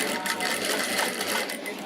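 Sewing machine running steadily while stitching along the edge of a pocket on palazzo trousers, a continuous close whirring hum lasting throughout, with no pauses.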